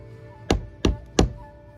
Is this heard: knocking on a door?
yes